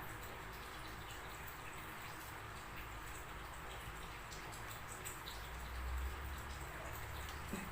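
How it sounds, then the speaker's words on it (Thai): Heavy rain falling in a steady, faint hiss of dense drops, continuous throughout with a slight low swell near the end. "วันนี้ฝนตกแรงนะคะ ฝนตกแรงมากวันนี้"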